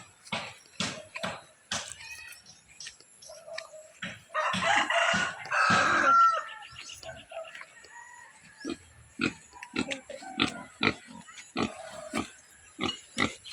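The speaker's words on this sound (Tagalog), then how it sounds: "Okay, pig." Pigs and chickens in a Philippine village on an early morning walk, with short grunts and clucks repeating close by and a rooster crowing in a louder burst partway through.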